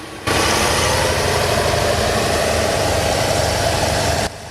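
A Wright 9-cylinder air-cooled radial aircraft engine powers a World War II tank at a tank gathering in Belgium, giving a steady, loud, rough drone that starts abruptly and cuts off just as suddenly.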